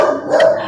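A single short, loud dog bark, close by and sharp, heard on its own without talking.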